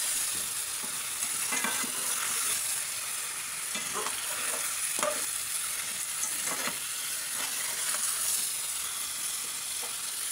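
Potatoes and chicken frying for biryani, with a steady hiss of sizzling oil and intermittent scraping strokes of a spoon stirring through the pan.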